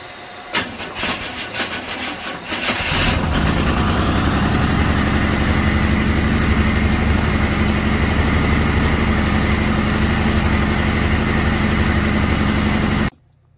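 A Chevrolet S10 street rod with twin carburetors after adjustment cranks briefly, then fires up and settles into a loud, steady idle that runs evenly for about ten seconds before cutting off abruptly.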